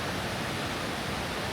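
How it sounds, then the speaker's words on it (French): Montmorency waterfall roaring as a steady, dense rush of falling water, a continuous broadband wash with no pauses or voices. "Devant cette magnifique cascade."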